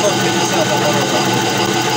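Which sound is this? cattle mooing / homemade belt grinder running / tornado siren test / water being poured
homemade belt grinder running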